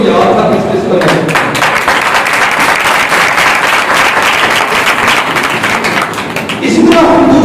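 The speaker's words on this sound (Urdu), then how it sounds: "آپ کی تالیاں بتا رہی ہیں کس کس کو یاد تھا، کس کس کو نہیں۔" A church congregation claps loudly and close for several seconds, dense rhythmic clapping with thumping taps, before a speaker's voice returns at the end.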